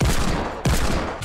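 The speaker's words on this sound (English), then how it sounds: "He's shooting rockets back at me." Rocket launcher fire in the Fortnite Battle Royale game: two loud, dense blasts about half a second apart, each a sharp burst trailing into a roaring rumble, with no talk over them.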